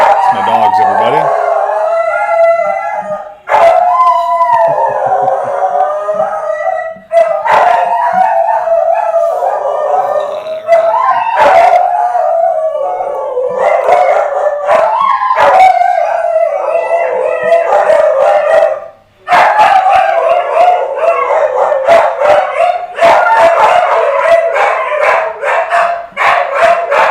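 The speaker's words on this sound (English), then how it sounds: "It's my dogs, everybody." Several dogs howl together in a loud, sustained chorus with wavering pitch, broken by sharp barks and yips, close by and continuing for a long stretch with only a few brief pauses.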